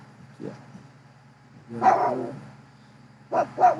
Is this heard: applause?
no